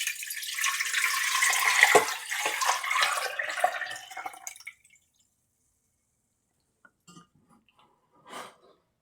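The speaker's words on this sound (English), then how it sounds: "I am going to pour the coconut milk" Homemade coconut milk poured into a pan, a splashing, trickling pour for about four seconds that stops abruptly, followed by quiet and a couple of faint drips.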